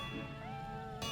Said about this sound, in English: Yeah, that's the cat.